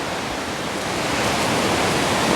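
Fast-flowing river water in jaguar country, a loud, dense, steady rush close by, unbroken and without voices.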